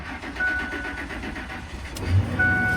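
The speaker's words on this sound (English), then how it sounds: "It jump started the vehicle." A car engine cranks and settles into a steady running hum after a jump start from a Milwaukee HOTSHOT jump starter rated at 2000 peak amps on an M18 battery. The engine is close and constant throughout.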